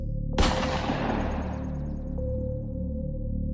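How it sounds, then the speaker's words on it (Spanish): A single sharp gunshot from a soldier firing into the sky cracks loudly, then rolls into a long echoing decay over a low steady drone. "varios soldados abrieron fuego hacia el cielo"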